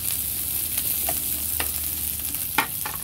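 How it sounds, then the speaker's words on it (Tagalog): Ginger and other ingredients are sautéed in a pan for a mussel ginger soup, giving a soft, steady sizzle broken by a few sharp scrapes as they are stirred. "So ito na nga ang ating paggisa ng mga sangkap, no?"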